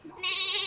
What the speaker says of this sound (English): Oh, there's a goat here.